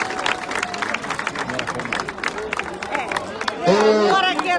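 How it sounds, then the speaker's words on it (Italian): Crowd at an outdoor political rally in Venaria near Turin cheering and clapping for the next mayoral candidate, a dense continuous patter of many hands with shouts mixed in, and a voice over a loudspeaker near the end. "fate un applauso al prossimo sindaco di Venaria"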